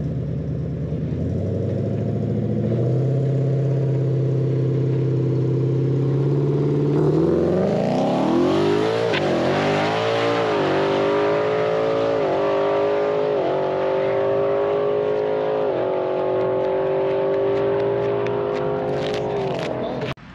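A 2020 Ford Mustang S550 on 6 pounds of boost revs hard, climbing in pitch and stepping through transmission gear shifts, with a loud, continuous engine roar throughout.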